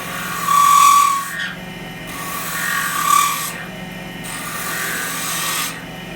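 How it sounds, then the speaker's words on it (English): A skew chisel shaves a spinning wooden dinosaur-egg blank on a lathe, giving close, steady hissing cuts in repeated passes of a second or two. A low motor hum runs beneath them and the cutting stops briefly between passes. "Now with the skew chisel you can make two separate types of cuts."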